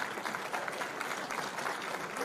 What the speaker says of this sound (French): je voudrais qu'on applaudisse chaleureusement